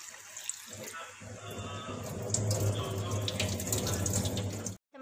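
Water splashes steadily from a tap over mung bean sprouts growing in a pot, a close, continuous hissing pour that swells midway and then cuts off abruptly near the end.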